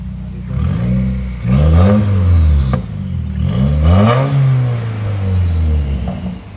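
A loud 2015 Subaru WRX 2.0L turbo engine revs up and down twice through a raw, rumbling straight-pipe exhaust, close by, with a growling, crackling tone.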